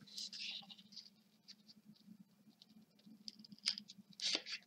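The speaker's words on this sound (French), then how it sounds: "on prend sa paire de ciseaux" Scissors cutting paper for a napkin ring craft, with a few quiet, close snips and rustles spread unevenly over several seconds beneath a faint steady hum.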